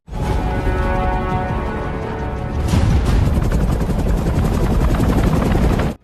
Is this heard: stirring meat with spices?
no